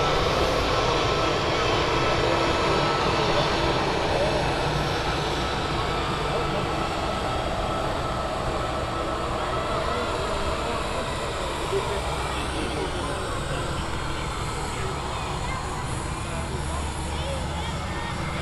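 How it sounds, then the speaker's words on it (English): Lufthansa Airbus A320 taxiing at Manchester Airport, a steady broadband jet engine roar holding even throughout at moderate distance, with people talking over it. "Lufthansa A320. It's taxiing out here."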